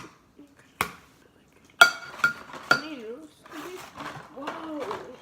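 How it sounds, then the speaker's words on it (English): Spatula scraping and clinking against a lasagna pan while lasagna is spread into an even layer, a few sharp clanks and scrapes close by, with a voice talking over the later part. "this is just kind of me struggling to spread out lasagna"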